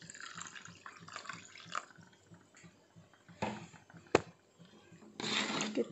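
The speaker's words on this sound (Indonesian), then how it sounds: "santan dari 1 buah kelapa ya. Kita siram seperti ini" Coconut milk from one coconut poured over a kilo of meat, soft liquid splashes and drips heard close up and fairly quiet, with a louder pouring burst near the end.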